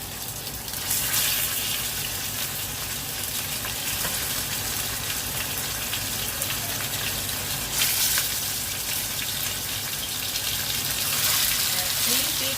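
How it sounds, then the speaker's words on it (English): Oxtails sizzle and spit in hot oil as a loud, constant hiss that swells in places, close up throughout. "Now you want to go ahead and put your oxtails in the oil."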